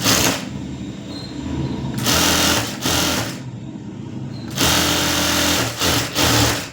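A sewing machine stitches the lining onto a saree blouse piece. It runs loud and close in long whirring bursts with brief stops between them, and no voice is heard.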